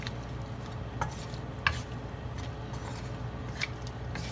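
Stir-fry vegetables and shrimp with liquid seasoning are stirred in a pan, making a soft sizzle under scattered scraping and clinking strokes of the utensil, fairly quiet and close.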